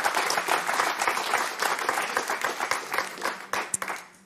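Steady, dense applause from a TV game show audience fills the whole stretch, loud and continuous, with a few sharper individual claps standing out near the end.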